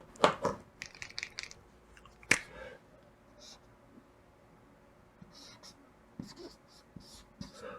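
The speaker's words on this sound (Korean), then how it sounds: "이건 다른 색깔로 한번 써볼게요" Marker or pen squeaking and tapping against a writing board during a lecture, in short scattered strokes and taps with quiet gaps between them. A soft voice is faintly heard underneath.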